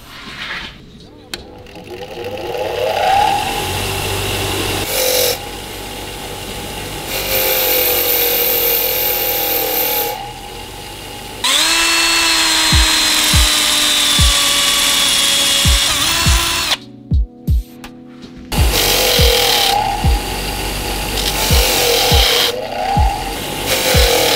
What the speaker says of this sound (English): I'm gonna do the outside on the wire brush, then I'm gonna stick them in a the vise